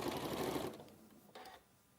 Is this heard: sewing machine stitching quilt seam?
yes